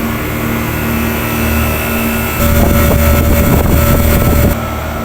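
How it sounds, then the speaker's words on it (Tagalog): Two air conditioning compressors running together after a filter drier replacement, a steady loud mechanical hum and drone with a rougher, louder stretch midway, with no talk. "gumana na yung dalawang compressor"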